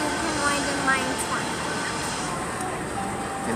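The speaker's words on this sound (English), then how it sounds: "Can Dad ride the mine train?" A continuous rolling rumble from the mine train ride at Six Flags Over Texas, loud and steady with brief metallic squeaks, as voices speak over it.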